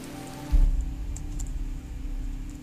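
Rainforest ambience from the video game Antichamber: a steady, soft wash of rain-like patter with a low rumble swelling briefly near the start, sparse faint drips and chirps, with no speech.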